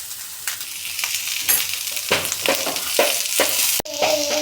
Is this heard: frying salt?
yes